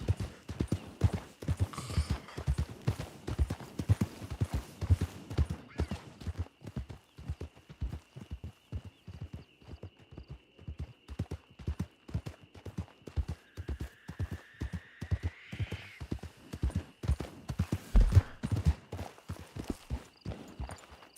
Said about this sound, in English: I like to walk my horse